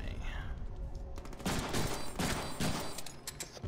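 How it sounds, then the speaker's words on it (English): Enemy gunfire in the Deadpool video game, a burst of sharp shots from around the midpoint onward, mixed with game sounds and a chatter of other noise at moderate loudness. "They start running away while shooting me."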